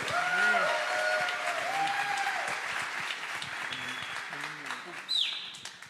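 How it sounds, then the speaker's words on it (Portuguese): Church congregation applauding during a service, a broad wash of clapping under a singing or speaking voice, with a brief sharp whistle-like sound near the end. "Quero que você aplaude o Senhor Jesus"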